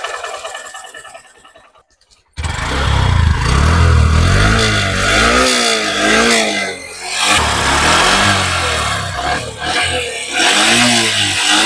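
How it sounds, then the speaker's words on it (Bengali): A Honda SP 125 motorcycle's engine and exhaust start up loudly after a quiet lead-in. Close, strong revs then rise and fall in repeated waves with a throaty exhaust note. "চলো, এটা হচ্ছে সিম্পল ইঞ্জিন সাউন্ড।"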